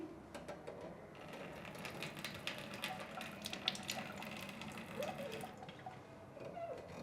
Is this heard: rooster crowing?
no